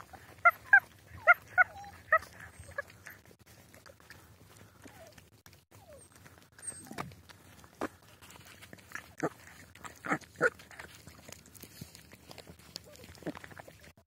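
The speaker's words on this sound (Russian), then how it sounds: "Это скулят, пытаются грызть, но едят" Puppies whimper and yip in short high bursts early on while eating bones, followed by scattered clicks and knocks of chewing, close and fairly quiet.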